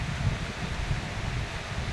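Strong wind from Typhoon Enting gusting in General Trias, Cavite, a steady broadband roar with rustling and microphone buffeting, no voices.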